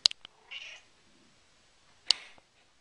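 A cat meows alone, a few short cries spaced over a few seconds, including a louder call near the end, close by in a quiet room.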